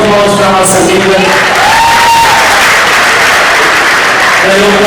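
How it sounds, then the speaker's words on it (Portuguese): Loud, sustained applause from an audience inside a church during a sermon, dense clapping filling the whole stretch with some cheering and whoops mixed in, close and continuous. "uma salva de palmas para a nossa amiga"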